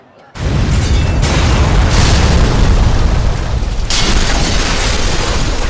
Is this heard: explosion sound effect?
yes